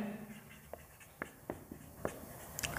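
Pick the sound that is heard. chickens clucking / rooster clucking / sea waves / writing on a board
writing on a board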